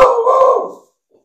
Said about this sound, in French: Mon chien a aboyé, comme d'habitude.